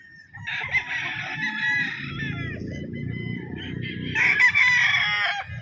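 Gamefowl roosters of Claret and White Kelso bloodlines crow on a farm, with two long, loud cock-a-doodle-doo calls overlapping low clucking and farmyard murmur, the second crow rising strongly near the end.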